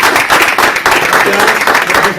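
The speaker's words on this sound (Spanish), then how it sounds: "Quiero dar las gracias y un grandísimo aplauso a todos los ponentes por su tiempo" An audience at a debate claps together in a steady, dense round of applause close by, with a voice speaking over it.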